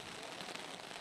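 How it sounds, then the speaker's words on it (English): Heavy rain falls outdoors during live news coverage, a steady, dense hiss that stays constant for the whole second with no voices over it. "It's raining heavily."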